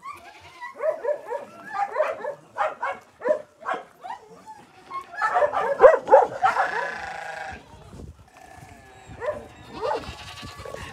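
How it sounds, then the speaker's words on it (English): A playful Rottweiler at an animal shelter gives a run of short, excited barks and yelps in bursts, close by, with a couple of louder, rougher outbursts midway and quieter whines near the end. "Look at Dora, how happy she is, the Rottweiler"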